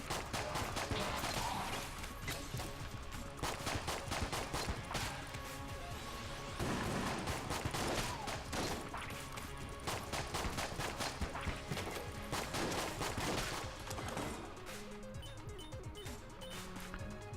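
Constant gunfire and crashing impacts from the twin-stick shooter Enter the Gungeon, dense and loud throughout with layered game music and effects.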